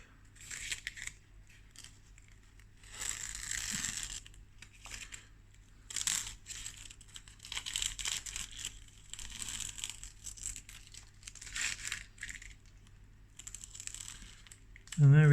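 Masking tape is peeled slowly from the border of a watercolour boat sketch in short bursts of crackly, papery tearing, close and fairly quiet, with a brief pause between each strip.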